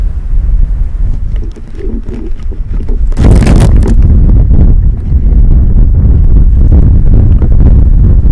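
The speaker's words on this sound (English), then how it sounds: "you can really hear the wind now that I've opened this thing up" Strong wind buffets a microphone whose foam windscreen has been removed, producing loud, continuous low rumbling and thumping that intensifies partway through and stays heavy to the end.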